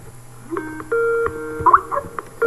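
A phone rings during a Minecraft SkyBlock gaming session, a tonal electronic ringtone with steady and shifting pitches over a low background hum, moderately loud and close, with no talking.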